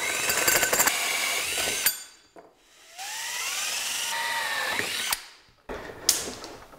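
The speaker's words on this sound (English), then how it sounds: "The problem with sharp hole saws is they want to drag, so run them backwards every now and then." A hole saw cuts holes in a case, whining and grinding in several bursts with brief pauses and sweeping pitch changes as the bit drags, binds and spins back up, loud and close with no talking.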